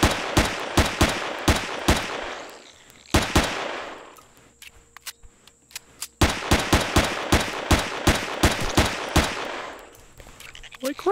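Loud, rapid bursts of gunfire cut down enemies in the sci-fi survival game Empyrion, with sharp repeated shots in several volleys separated by short lulls.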